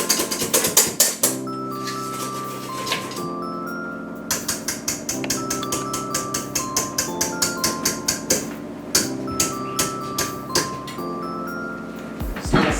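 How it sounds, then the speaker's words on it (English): Pancake batter is stirred with rapid, rhythmic scraping taps against the bowl, running in repeated bursts with brief pauses between them, alongside a steady tonal hum. "So I'm going to stir this up again because it's been sitting there."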